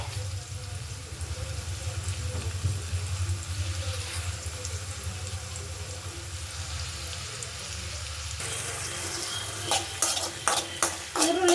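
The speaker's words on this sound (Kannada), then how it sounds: "ಈರುಳ್ಳಿ ಫ್ರೈ ಆದಮೇಲೆ" Onions fry in a pan with a low steady sizzle while being stirred, a low hum underneath, and sharper utensil scrapes and clatters toward the end.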